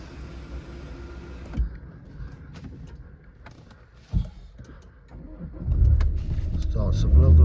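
A Ford Focus 2.0 TDCi ST-3 diesel starts up nearby: a couple of sharp clunks, then the engine catches and settles into a steady, loud low rumble, with faint cabin noise throughout.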